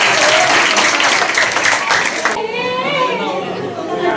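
A school audience claps loudly for a student singer at a birthday tribute concert, with chatter and children's voices mixed in. The clapping fades into softer crowd noise with a voice partway through.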